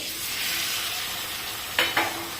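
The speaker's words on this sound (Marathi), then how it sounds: "इथे मी पनीर तळून घेते" Paneer frying in lightly salted oil gives a steady soft sizzle, with two short, sharp bursts of spitting and crackling near the end.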